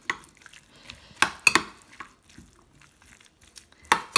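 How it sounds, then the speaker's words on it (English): Tuna being stirred into couscous and sweet corn in a pan, soft scraping and crinkly stirring with a few sharper clinks of the spoon against the pan, faint and close. "And now we're going to add in the tuna. And again, give it a stir."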